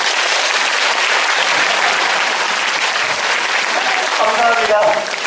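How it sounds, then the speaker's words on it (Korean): A live audience at a university presentation competition claps loudly and steadily, with dense, continuous applause filling the hall throughout. "박수도 한번 쳐볼까요? 박수!"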